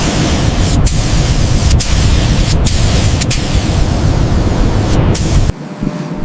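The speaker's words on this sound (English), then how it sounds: "Applying primer to panels. Applying first coat of paint." A spray gun applies primer and paint to panels of a 1970 Dodge Charger R/T, a loud continuous hiss broken by several short pauses between passes, ending with a sudden drop to quiet.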